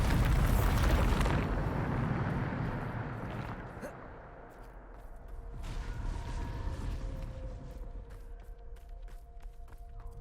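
A loud, rumbling magical blast from the Bombarda explosion spell in the video game Hogwarts Legacy, with a heavy burst at the start that decays into a long, low rumble and scattered debris and mechanical clatter.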